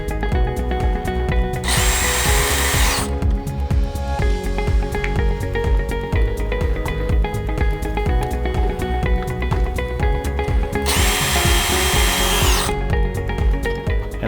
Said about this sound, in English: Then you're going to want to remove the two screws that hold the lock in place.